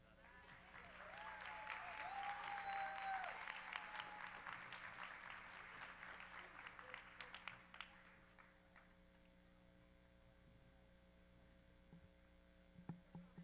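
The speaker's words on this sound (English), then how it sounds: "Let me hear another round of applause for Los Alisos." Audience applause at a school awards ceremony honoring a Seal of Excellence school, building to a full round of clapping that fades after about eight seconds, leaving steady mains hum and a few scattered claps.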